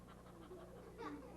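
A person imitates a happy dog's panting with quick, rhythmic breathy huffs, close and steady throughout with no speech.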